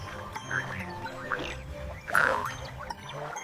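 Cartoon frog croaking beside a park pond, a few short croaks and chirpy calls over a quiet background, with one louder croak near the middle.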